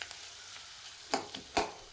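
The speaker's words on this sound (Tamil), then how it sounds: "நல்லா வதங்கட்டும்" Beetroot and shallots sauté quietly in a pan, a faint low sizzle broken by a few sharp scrapes and taps of stirring, with no talking.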